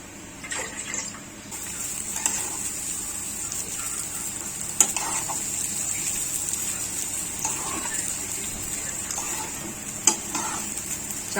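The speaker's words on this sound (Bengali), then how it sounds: "চালটা আমার ভাজা হয়ে গেছে" Rice grains fry in a pot for sweet pulao, a moderate sizzle with repeated stirring scrapes and occasional sharp clinks of the utensil against the pot.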